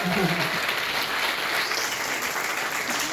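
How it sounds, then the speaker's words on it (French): Audience applause at a Star Wars and sci-fi fan convention, a steady wash of clapping from a crowd that holds evenly for about three seconds, with a brief voice murmuring underneath near the start. "Allez, on l'applaudit encore."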